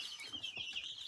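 Chickens clucking in short, repeated bursts over a steady high-pitched background hiss, with several soft calls spread across about a second and no voices.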